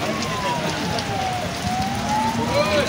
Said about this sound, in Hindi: बारिश धमाकेदार बारिश हो रही है